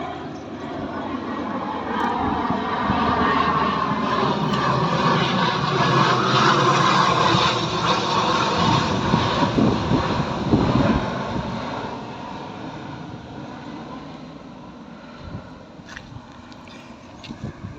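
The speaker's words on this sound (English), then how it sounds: "Here's another plane now." An airplane passes overhead at a house building site in Phetchabun, Thailand: a broad, rough roar that swells over several seconds, peaks midway and slowly fades, with wind buffeting the microphone.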